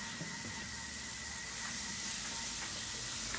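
Chopped shallot sizzles in hot browned butter in a pan over low heat, making a steady, even frying hiss with no pauses and no talking.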